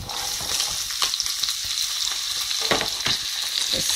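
Chopped onion frying over low to medium heat in a pan for chilli paneer, a loud, steady hiss of sizzling with a few soft stirring scrapes, alone without talk.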